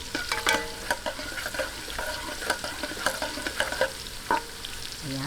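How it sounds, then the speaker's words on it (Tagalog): Garlic sautéing in coconut oil in a pan for a Filipino bangus sardinas in tomato sauce, a steady close sizzle broken by repeated sharp scraping and stirring clicks, with no talking. "Atin lang pong gisa-gisahin hanggang mag-light brown."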